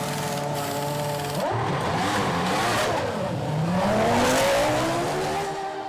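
Formula 1 car from the 2005 season at a race pit stop: engine note rises and falls with revving and accelerating sweeps, some tire squeal, loud and steady throughout with no talk.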